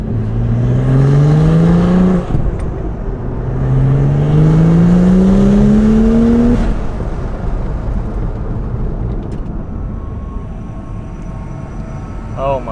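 A tuned BMW 135i engine revs up loudly twice while accelerating, each pull rising in pitch before the throttle lifts, then settling into a lower road drone with the car's cabin noise.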